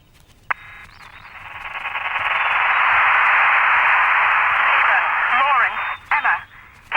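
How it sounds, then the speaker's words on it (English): A harsh, band-limited rush of static swells up and holds loud, then breaks into choppy dropouts near the end, like a bad phone line. "You sound like you're on a really bad phone line."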